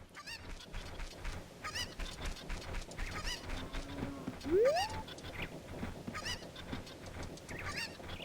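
Cuccos, the chickens of Zelda: Ocarina of Time, cluck and squawk in repeated short honking bursts over soft game background sound, with one louder rising call partway through.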